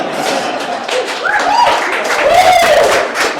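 An audience at a political introduction claps throughout, a sustained crowd clapping with a voice talking or calling over it and some higher whistle-like tones rising in the middle.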